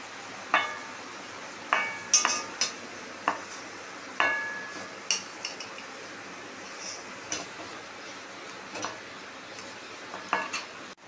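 Kochur loti (colocasia stolons) and lote fish (Bombay duck) curry being served out of the pan, with a dozen or so sharp metallic scrapes and clinks of a spoon against the pan at irregular intervals, fairly close, no talking.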